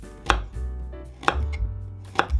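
A knife chops a carrot on a board in three sharp, evenly spaced cuts, close and clear with no talking.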